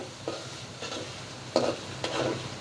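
Ginger-garlic paste frying in a pan as a spoon stirs it, with steady soft sizzling and several distinct scraping stir strokes spaced out over the clip, close by and moderately loud, no talking.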